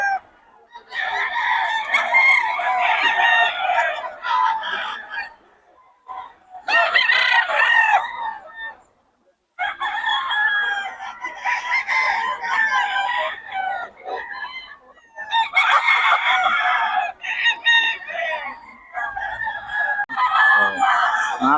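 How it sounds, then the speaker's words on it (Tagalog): Several roosters crow repeatedly in long, loud bursts with short pauses between, mixed with chicken clucking nearby, at a market in Bocaue, Philippines. "Quality mga manok ni boss Batang ngayon, no?"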